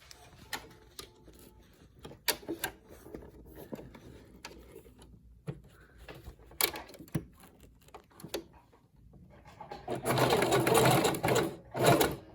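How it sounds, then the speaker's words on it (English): A sewing machine zigzag-stitching an N95 mask runs in short bursts with pauses and clicks between, ending in a loud, sustained whir of rapid stitching up close. "I'm going to stitch her first. And we're using the ziggy-zaggy"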